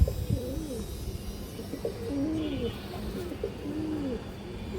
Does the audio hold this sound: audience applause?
no